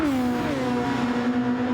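Formula 1 race cars in a video game race roar past, a high engine note sliding downward as one car passes, then holding a steady, loud whine under the fading sweep.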